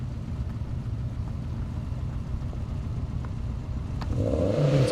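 A BMW M5 Competition at an airstrip race holds a low steady engine rumble, then accelerates hard near the end with a rising, revving tone growing louder.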